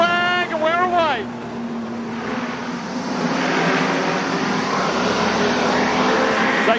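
Street stock race cars roar off the green flag to start a final at Carina Speedway, a steady, loud engine drone with wind noise that grows slightly louder partway through, under continuous announcer commentary.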